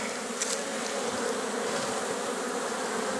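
Honeybees buzzing at an apiary in March, a steady, dense drone that stays close and even throughout, with no voices.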